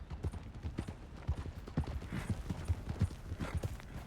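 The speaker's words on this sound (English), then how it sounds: "that's a nice-looking horse you have there" Horse hooves clip-clop in an irregular, close trotting rhythm on a trail in the video game Red Dead Redemption 2, moderately quiet with faint mechanical creaks and no speech.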